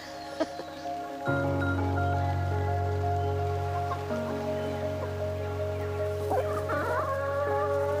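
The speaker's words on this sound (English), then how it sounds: "I love chooks" Backyard chickens clucking and a rooster crowing on a rural property, several birds close by with a long drawn-out crow and scattered clucks over a steady background hiss.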